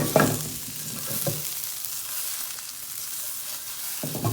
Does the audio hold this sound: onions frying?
yes